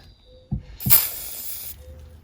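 PB Blaster penetrating oil is sprayed from an aerosol can onto a Porsche Boxster 986 transmission mount bracket in one short, sharp hiss lasting under a second, after a couple of faint clicks from the can.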